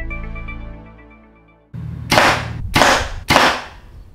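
Three arrows tipped with Magnus single bevel 150 grain broadheads strike MDF board in quick succession, each a sharp loud crack about half a second apart, following a fading hum.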